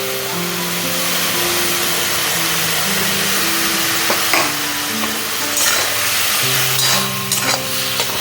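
Ground paste with chopped ginger frying in a pan, a continuous loud sizzle with stirring scrapes, while music with a steady tune plays throughout.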